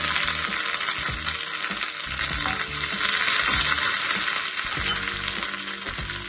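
Curry leaves and shallots sizzle in hot ghee as a tempering, a steady loud crackling fry with occasional sharper pops and stirring, continuous throughout with no talk.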